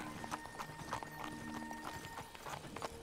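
Hooves of a white horse clip-clop in a steady, fairly close rhythm, with faint tonal hum and light background noise in a prairie western setting.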